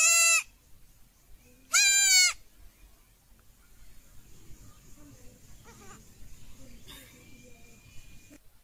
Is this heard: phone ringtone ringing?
no